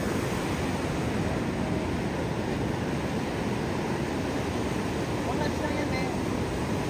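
Ocean waves at Sabang Beach in Baler, heard as a constant broad wash of surf blended with wind buffeting the microphone, steady and unbroken throughout.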